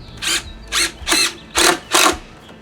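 A power drill drives screws through an angle brace in five short, sharp whirring bursts with brief pauses between them, close and loud.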